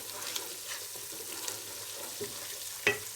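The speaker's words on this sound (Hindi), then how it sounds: "मसाला भून के फिर डालें। लहसुन और अदरक की बहुत अच्छी खुशबू आ रही है।" Masala with garlic and ginger fries in a pan for a Lahori-style chana kofta, a faint steady sizzle with a few soft stirring scrapes and one brief clink near the end.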